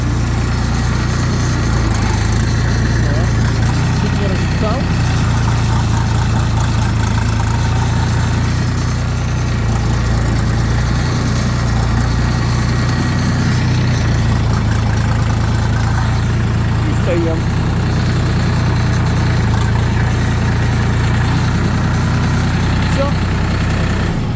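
DTZ tractor engine idling and being manoeuvred into a parking spot, a constant loud low rumble that runs unbroken throughout, with someone talking over it.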